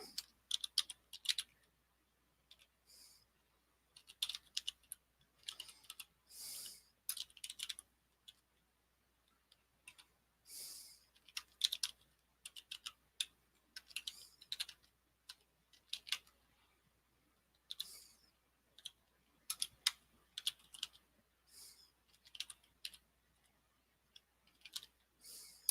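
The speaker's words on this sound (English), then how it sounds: "I'm just typing in stuff here for a second here." Quiet, irregular clicking of keys being typed on a computer keyboard, in short bursts separated by pauses and with a faint steady hum underneath.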